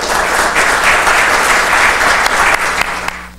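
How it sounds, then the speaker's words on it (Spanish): Loud, continuous audience applause at an evening engineering lecture for a Peruvian mining engineers' institute, a thick wash of clapping that holds steady for a few seconds before easing off. "Recibámoslo con un voto de aplausos"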